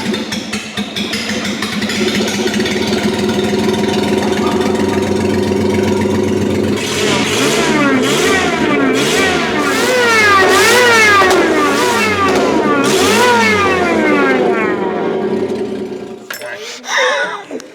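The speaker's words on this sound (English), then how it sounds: "I wanted to hear it before I put the supercharger lines into the actual motor, just to get an idea of what it's gonna sound like." Engine of the world's smallest truck, fitted with a cheap Temu supercharger and with the exhaust disconnected, idles roughly and then revs repeatedly in loud rising and falling bursts, with metallic clinks and voices talking over it.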